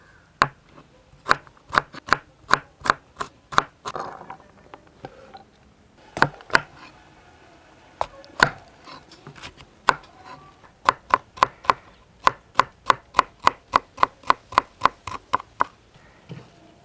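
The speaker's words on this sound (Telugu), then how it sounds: "క్యారెట్, క్యాప్సికమ్ కూడా ఒకే సైజులో అన్నీ కట్ చేసి పక్కన పెట్టుకుందాం" A knife chops carrot and capsicum into even pieces on a board, with sharp regular knocks in quick bursts, a brief pause, then a long steady run of close, crisp cuts.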